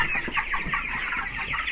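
Broiler chickens clucking and murmuring together inside a crowded chicken house, a dense, continuous chorus of overlapping calls at steady loudness.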